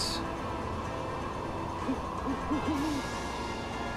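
An owl hooting in the video game Okami, a short series of soft wavering hoots near the end over steady background game ambience.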